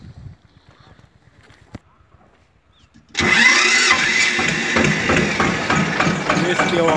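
An Eicher 242 tractor engine cranks and catches after a few quiet seconds of low background, then runs loud and steady at a rough diesel idle close by.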